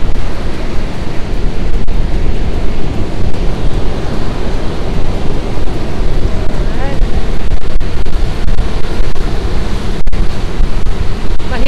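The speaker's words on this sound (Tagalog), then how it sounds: "Ang laki-laki ng mga waves. Hindi mo kaya yung power niya, no? Ang lakas ng hampas ng tubig." Ocean waves crash at high tide along the California Highway 1 coast in a loud, continuous roar of surf, heavily buffeted by wind noise on the microphone, with a voice talking over it.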